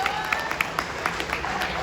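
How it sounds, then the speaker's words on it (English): Audience applause for the mayor at a city open house celebrating City Government Week, with steady crowd clapping and a few sharper claps over a busy room, continuous for the whole stretch. "give us a round of applause"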